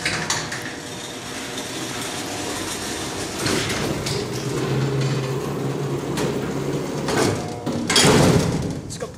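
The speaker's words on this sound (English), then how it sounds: "Let's close the door." A Montgomery G&P freight elevator door at a Sears store in Santa Rosa Plaza mall slides shut with a rolling rumble and a heavy clanking thud near the end, amid broadband mechanical noise.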